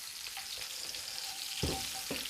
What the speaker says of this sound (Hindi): तो बटर मेल्ट हो गया है। अब इसमें ये मेरे पास ड्राई रेड चिली है, ये 4-5 अदद इसमें डालेंगे